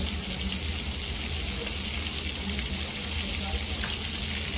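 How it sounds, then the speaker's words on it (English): Butter melts in a hot pan and sizzles with a steady, dense, close crackling hiss that holds even from start to finish with no talking. "Now we can see the butter has melted."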